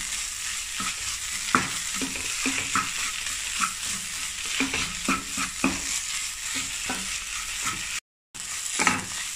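Fish filling is mashed and stirred in a frying pan, with a spatula scraping and tapping in irregular strokes over a constant soft sizzle. There is a brief dropout near the end.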